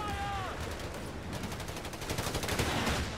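Tank hunters firing in the World War II strategy game Company of Heroes 3 produce dense rattling bursts of gunfire that build toward the end. A high descending whistle is heard at the start.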